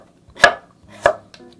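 A knife slices radish into fine julienne strips, two crisp, close strikes on a cutting board followed by a faint lighter tap.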